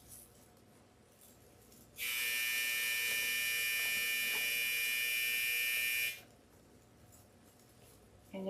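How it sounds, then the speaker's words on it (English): A steady electronic buzzer drones for about four seconds, loud and close, starting and stopping abruptly against a quiet room background. "that buzzer's gonna go off again"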